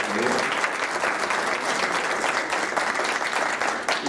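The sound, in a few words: audience applause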